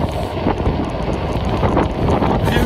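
Cold wind rushes hard and continuously past a cyclist riding at about 30 km/h, a loud, close, unbroken roar with no clear speech.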